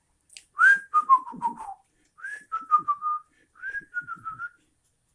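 A person whistles a folk-legend tune in imitation of El Silbón, three separate phrases of sliding, descending notes, each rising sharply then falling in pitch, close and clear with quiet pauses between.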